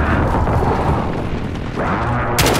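An airstrike explosion in a video game, a loud, dense, continuous roar and rumble filling the whole moment, with a sharper burst at the close.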